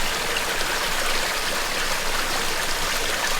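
A mountain stream on the Pulpit Rock hike in Norway runs steadily, a dense, even hiss and splash of flowing water close by with no voices.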